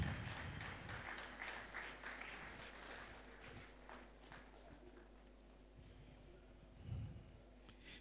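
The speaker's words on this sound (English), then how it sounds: "Please keep clapping for her." Audience applause at a corporate marketing forum, a faint, distant, continuous patter of clapping that thins out toward the end with a brief swell near the close.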